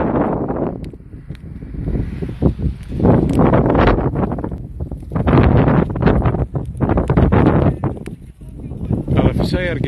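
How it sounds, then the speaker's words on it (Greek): Strong wind buffeting the microphone at a wildfire outside Koila, Kozani, with heavy low rumbling gusts and rustling that rise and fall throughout, while someone speaks over it. "Φυσάει αρκετά, αυτό είναι το κακό"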